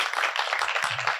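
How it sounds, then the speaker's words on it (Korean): Brief applause for a team's final project presentation in a training-course hall, a quick burst of steady clapping from a small audience. "박수 한번 더 드리고 싶습니다"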